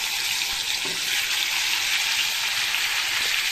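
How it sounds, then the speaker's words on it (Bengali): Katla fish heads fry in oil in a hot wok with a loud, steady, close hiss and crackle that runs throughout, and no one speaks. "কড়াইটা গরম হয়ে গেছে কাতলা মাছের মাথাগুলোকে ভেজে নেব"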